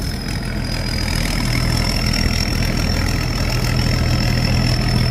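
A combine harvester engine gives a steady, loud drone with a constant high whine, running without pause and without voices, in a rice field.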